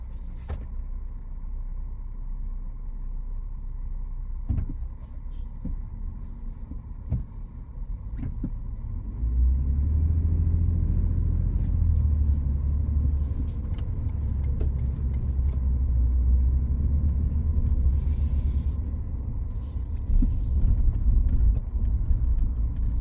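A car driving slowly through a shopping area in Bellevue, Washington, heard from inside as a steady low engine and road rumble that swells as it picks up speed, with faint scattered clicks and no talking.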